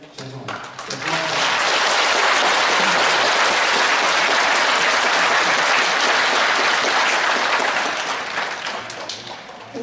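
An audience at a lecture hall breaks into sustained, dense applause after a talk on the independence movement, rising quickly, holding loud and full for several seconds, then tapering slightly at the end.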